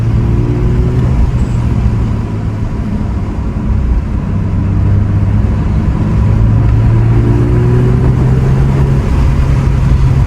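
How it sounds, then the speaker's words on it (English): A Corvette sports car engine revving high, a loud, steady, close-up drone with sustained tonal whine that holds through most of the stretch, slightly easing midway then climbing again, with no talking. "The engine's, it's meant to rev out that high, so you can't really be scared when it does it."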